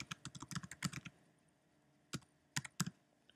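A computer keyboard is typed on in a quick burst of crisp key clicks, then a pause, then a few separate taps, all close and quiet with no talking.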